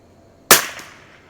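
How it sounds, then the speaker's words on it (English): A single sharp report from a CZ 452 FS bolt-action rifle fired outdoors on a breezy range, loud and close, with a short decaying echo afterward and no talk. "So I am just going to shoot some groups"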